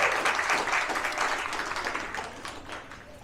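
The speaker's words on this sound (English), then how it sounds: "So give Jack a round of applause." Visitors applaud at an elephant feeding with a huge watermelon, a dense, continuous patter of many hands clapping that tapers gradually over a few seconds.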